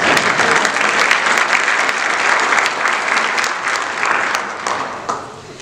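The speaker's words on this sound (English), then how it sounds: "We have a little applause." Audience applause at a panel event on the Medical Marihuana Facilities Act, a full, close burst of clapping from a crowd that holds steady and then tapers off near the end.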